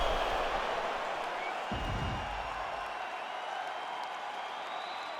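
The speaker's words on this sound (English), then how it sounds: "So the crowd voicing its appreciation after that round" Large UFC arena crowd cheering and applauding after a round, a loud, sustained roar of many voices with clapping that stays steady throughout.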